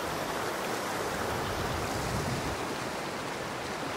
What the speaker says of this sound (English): facing straight into the flow of the river